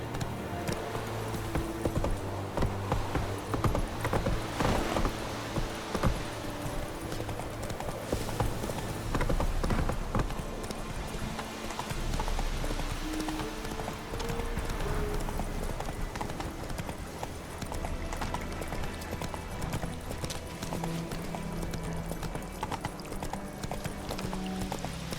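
Horse hooves clip-clop steadily at a run in The Witcher 3 video game, a continuous near rhythm of hoofbeats under ambient game sound and music, with a possible brief whinny.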